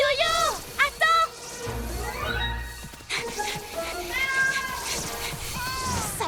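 A cartoon kitten stuck high in a tree gives repeated high, plaintive meows, loud and close, interleaved with animated character voices speaking.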